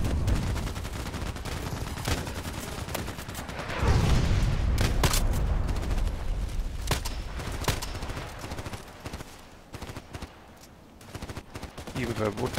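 Cannon shots from the EBR OSM in a tank video game: heavy booming reports, one especially loud blast near the middle, over a busy stream of gunfire crackle and battle rumble.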